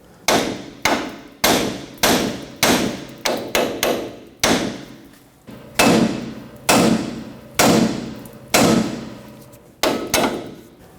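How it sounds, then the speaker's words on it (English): A hammer strikes the steering knuckle of a 1995-2004 Toyota Tacoma about a dozen times in an uneven series of loud, ringing blows, close by, each decaying before the next. "Tap the side of the knuckle with a hammer"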